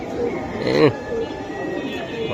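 A Giribaz pigeon bred from silver khaki and red khaki lines coos briefly, close by, one soft throaty call in the middle while someone speaks over it at a pigeon farm.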